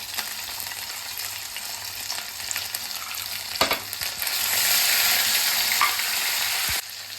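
Chopped ginger and green chili hit hot oil with curry leaves for sabudana khichdi, a steady bright sizzle with stirring scrapes that swells louder midway, then cuts off.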